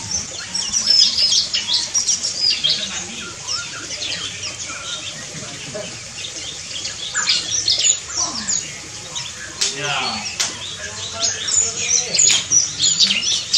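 Pancawarna birds in an aviary give repeated bright chirps and tweets, some squawking calls mixed in, fairly close and lively over steady background noise.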